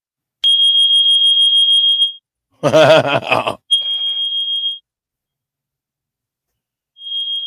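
A loud, high-pitched electronic alarm tone sounds in sustained beeps, interrupted by a short burst of another voice-like alert, then resumes and returns briefly near the end, with a single spoken word in between.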